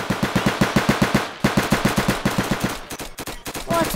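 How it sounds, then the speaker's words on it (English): A SPAS shotgun fires again and again in the Roblox game Flag Wars, with a fast, even run of loud punchy shots, a brief gap, then more bursts. "I bought a spaz. It's a shotgun. Yeah, I bought a shotgun."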